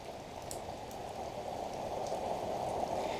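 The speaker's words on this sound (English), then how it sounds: "Sounds nice on the roof." Steady rain falls on a small cabin roof in Afan Forest, Wales, an even, close, continuous hiss and patter with no voices.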